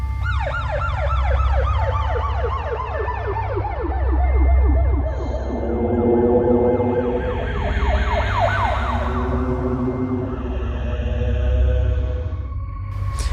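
An ambulance siren wails loudly and continuously, its rising and falling tone sweeping over a steady low engine rumble, with a second siren pattern taking over partway through.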